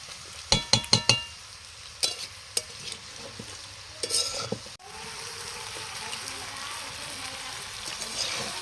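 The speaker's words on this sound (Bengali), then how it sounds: "মাংস কষানো চলছে আমাদের, খাসির মাংস রান্না চলছে।" Goat mutton is sautéed in a pan for a curry with potato: a quick run of spatula clanks against the pot at the start, then a steady, close sizzle that carries on alone.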